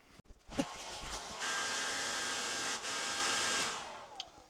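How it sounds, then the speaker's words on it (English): A handheld hair dryer blows a steady, loud rushing hiss while warming runny glue on a 72V e-bike battery build. It starts after a few handling clicks, drops out briefly, then runs again and cuts off near the end. "When I get the hairdryer."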